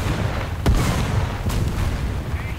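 Artillery fire in War Thunder: two distant booming impacts land about a second apart over a continuous low rumble of battlefield noise, with no talking.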